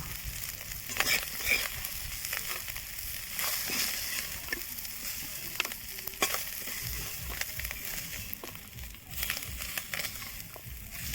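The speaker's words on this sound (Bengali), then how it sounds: "আমার মাছ ভাজাটা হয়ে গেছে, এখন আমি" Small fish frying in a pan give off a steady, close sizzle, broken by scraping and stirring clatter as the pieces are turned and lifted out, with no voices.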